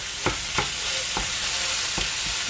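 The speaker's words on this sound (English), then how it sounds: "I am browning up my burger first." Ground beef browning in an Instant Pot, a dense continuous sizzle with regular spoon scrapes and stirring knocks about every half second, close up and with no talking.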